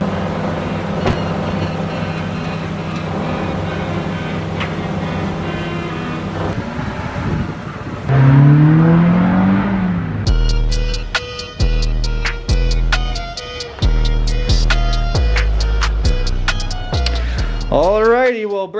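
A car engine cranks and runs during a project car's startup, with a steady, loud mechanical drone that shifts into rapid, repetitive pulsing bursts, continuing close and prominent throughout.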